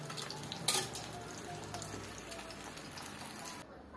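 Meat and ham fry in a pan for Salvadoran tortas, giving a steady close sizzle with light crackles and a brief clatter early on, before the sound cuts off near the end.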